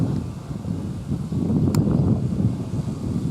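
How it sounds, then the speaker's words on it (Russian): Loud, low rumbling wind buffeting the microphone outdoors where pigeons are flying, swelling into a stronger gust midway and staying blustery. "Порывы, ветер, порывы."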